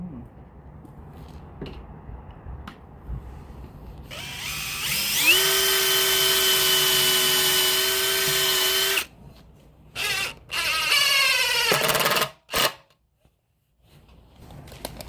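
A power drill drives screws into a new backyard fence: a loud, steady whir rising in pitch and holding for several seconds, then two shorter bursts near the end, with quieter outdoor background between.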